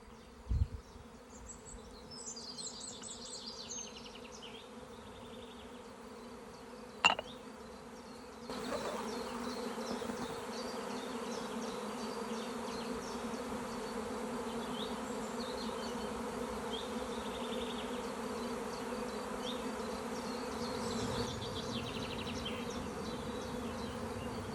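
A swarm of honeybees hums overhead outdoors in a steady, layered drone that swells louder after a few seconds and holds, with a couple of sharp knocks early on.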